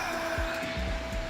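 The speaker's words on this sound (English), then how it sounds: "I hear a lawnmower in the background." A lawnmower runs somewhere in the background, a steady, moderately faint motor drone with a sustained hum and occasional low rumbles, and no one speaks.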